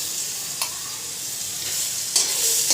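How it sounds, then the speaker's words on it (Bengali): Garlic sizzles steadily in hot oil with black cumin, a close, continuous hiss broken by a few stirring scrapes, with no talking. "এবারে তেলে ভালো করে এটাকে রসুনটাকে আমি ভেজে ভেজে নেব।"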